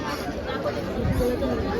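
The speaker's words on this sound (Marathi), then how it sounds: "खूप गर्दी आहे बघा" Steady crowd chatter fills a busy saree shop during Diwali shopping. Many overlapping voices make a close, continuous babble.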